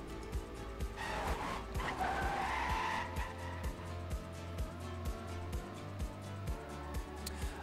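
Race cars in Trackmania screech through a skid over a steady engine drone, with rhythmic tire noise pulsing throughout at moderate volume.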